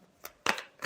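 Tarot cards shuffled by hand in three quick riffling bursts, each a short papery flutter, close and clear with no talking.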